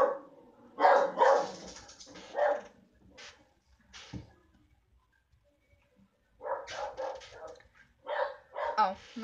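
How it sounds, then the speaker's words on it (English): A pet dog barks in bursts at another dog in a park behind a house, with someone talking over and between the barks. "my dog's freaking out because there's a dog in the park behind my house"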